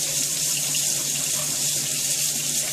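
Water runs from a tap in a steady, even hiss while being added to an Easy Bake Oven pizza mix. It is close and continuous, with no voices.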